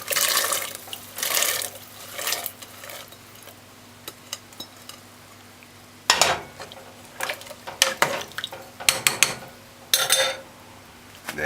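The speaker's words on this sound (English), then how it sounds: "We're going to add the peas." Peas go into a pot of stew, with metal clinks of a spoon and pot, bursts of splashing and stirring, and quiet pauses between the clatter.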